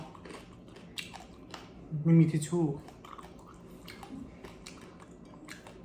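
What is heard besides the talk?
crunching crispy three-layer pork belly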